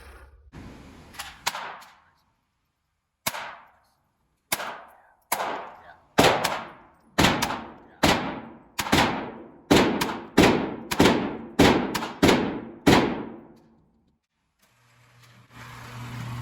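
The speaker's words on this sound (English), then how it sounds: "let's take a look at the very first 10 shots ever shot out of this gun by my offspring" Beginner pistol fired at a range, ten or so sharp reports spaced about half a second to a second apart, each with a short ringing decay, loud and fairly close with quiet gaps between.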